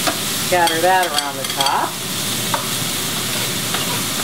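Chopped onion and celery hit a hot pan for braised lamb shanks, giving a continuous crackling sizzle with some stirring noise, while a voice talks over it near the start.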